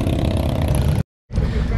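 A V-twin motorcycle fitted with a 1190 SC exhaust revs loudly at close range at an outdoor bike show. The rough, steady engine roar cuts out briefly, then resumes.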